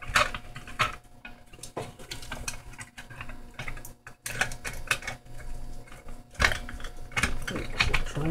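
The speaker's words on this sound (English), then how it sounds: "So I'm trying to get the battery box screwed back down." A screwdriver drives screws into a UPS battery box, giving faint irregular clicking and ratcheting with small metallic taps and scrapes in quiet bursts, no speech.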